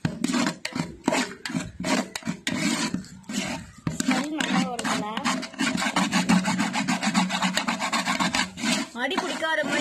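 Spoon scraping and stirring chicken biryani masala with coriander and mint in a pot, a steady rasping rub with quick repeated strokes at first, then a denser continuous scraping, close and fairly loud, with no talk.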